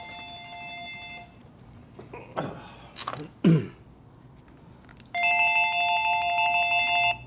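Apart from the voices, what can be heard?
telephone ringing in motorcycle workshop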